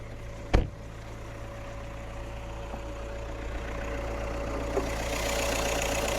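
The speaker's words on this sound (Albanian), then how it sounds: "Kjo është motori" A 2007 Volkswagen Golf 5 with a 2.0 TDI diesel engine, Stage 1 tuned and fitted with a DSG gearbox, idles steadily with a low hum. A single sharp knock comes near the start.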